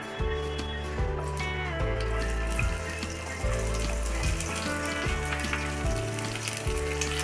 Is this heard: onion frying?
yes